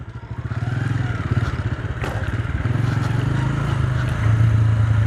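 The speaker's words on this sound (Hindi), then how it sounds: "ये गया जी ट्रैक्टर और ये ट्रॉली यहाँ पर अनलोड करते हुए जी" Diesel tractor engine runs steadily and loud nearby, with a farm trolley reversing to tip out a load of soil, the drone swelling slightly toward the end with some clatter.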